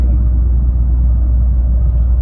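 A car travels fast along a new highway, heard from inside as a loud, steady low rumble of engine and road noise with no breaks and no speech.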